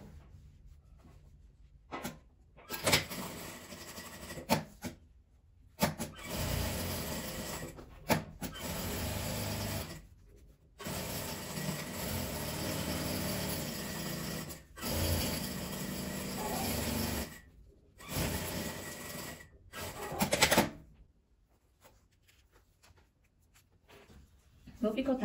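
A home sewing machine stitches around a fabric phone holder in several bursts of steady whirring, broken by short pauses, with some talking in the room at times.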